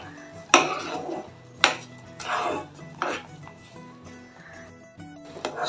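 A spoon stirs sugar into semolina and hot water in a pan for mango kesari, making a few loud, close scrapes and knocks against the metal, separated by quieter gaps.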